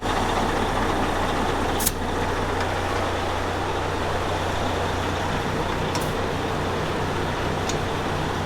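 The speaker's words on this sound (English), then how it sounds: "I got trucks airing up, running, most of them" Several trucks idle steadily as their air systems build pressure, a loud continuous diesel rumble with a few short sharp air hisses cutting in, no voices over it.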